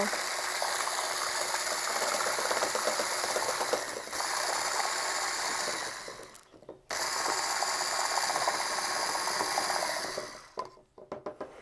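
An electric mixer whirs steadily as it beats pumpkin pancake batter, with brief dips and pauses partway through and a trailing off near the end.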